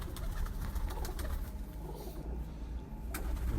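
A pure-bred female pigeon coos softly and steadily, a low murmur with a few brief higher chirps over faint steady background noise, and no talking.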